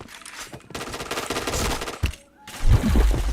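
Rapid bursts of gunfire in a shooting video game, dense automatic fire and loud impacts filling the clip, with a brief lull before heavy, booming shots near the end; no talk.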